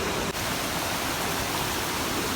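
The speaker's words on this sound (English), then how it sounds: "I can hear the sounds of the waterfall." Waterfall in Karura Forest, Kenya, heard as a constant broadband rushing roar of falling water, steady and fairly loud with no talking.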